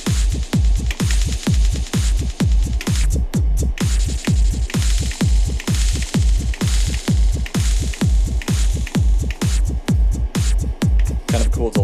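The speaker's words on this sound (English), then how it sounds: "Kind of cool delay echo." Delay echo effect on a clap through a Pioneer DJM900nexus mixer, a loud steady run of pulsing, repeating hits with smeared echo tails over a continuous electronic track.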